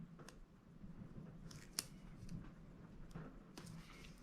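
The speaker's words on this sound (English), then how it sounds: "So I'm going to trim off the edges" Scissors trim the edges off a sheet of paper for a planner page. Several short, quiet snips come at uneven intervals with soft paper rustling between them, and there is no talk.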